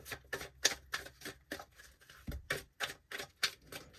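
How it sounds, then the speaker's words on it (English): A deck of tarot cards is shuffled, giving rapid rhythmic riffling bursts of card-edge clicks. About a dozen quick, close flutters come in an uneven pulse with no talking. "We'll do one more shuffle for you"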